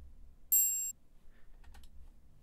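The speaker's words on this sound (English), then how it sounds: "I then added a triangle sound" A single synthesized triangle hit in a hip-hop beat, a bright metallic ring with layered high overtones that holds for a short moment and then cuts off cleanly, heard alone over a quiet background.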